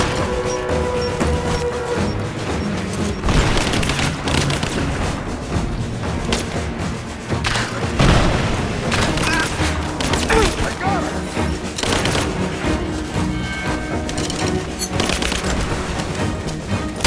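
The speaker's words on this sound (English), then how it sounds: "I'm taking fire!" Sustained, dense gunfire rattles through a firefight in Rise of the Tomb Raider, with bursts of shots, crashes and booms filling the whole stretch while voices shout over the noise.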